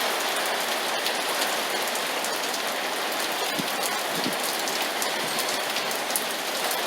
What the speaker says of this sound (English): That's real rain.